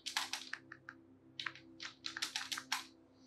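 Quick, light clicks of a keyboard hooked up to a Samsung smartphone running DeX, typed in uneven bursts with short pauses, close and fairly quiet against a low background hum.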